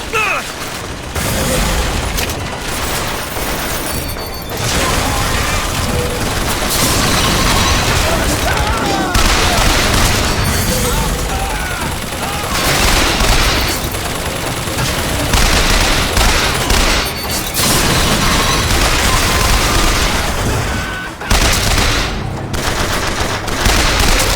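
Turret gunfire in the video game BioShock Infinite: loud, dense bursts of automatic shots and booms rattle almost continuously, with voices talking over the fighting.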